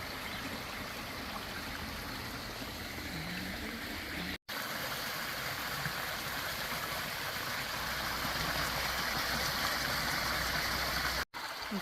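A stream flowing beside a campsite along a hiking trail, a steady rushing babble of water that stays constant and fairly soft throughout, with two brief dropouts.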